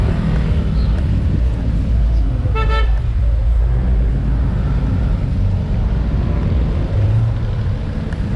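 Loud, rumbling road traffic surrounds a group of cyclists on a ride, with one short, clear car horn toot near the middle of the clip. No words are picked out.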